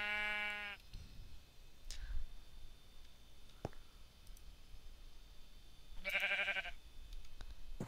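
Sheep in the Minecraft video game bleat in two short, clear bursts, one at the start and one later, between scattered clicks and faint game ambience.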